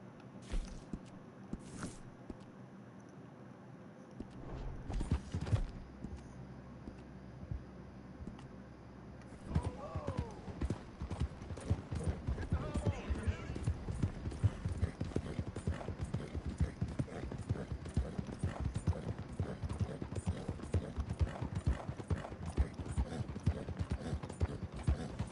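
Horse hooves clip-clop in Red Dead Redemption 2, sparse and uneven at first, then from about ten seconds a steady, fast galloping rhythm that runs continuously to the end.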